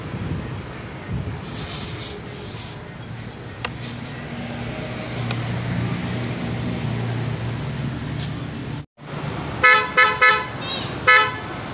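A steady low engine hum from a Honda Click 125i scooter runs for several seconds, then a short pause before about four quick, loud beeps of its dual-contact horn close by.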